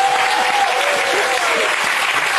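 A studio audience on a French television talk show claps in a dense, even burst of applause, loud and sustained, with a faint whistle-like tone drifting through.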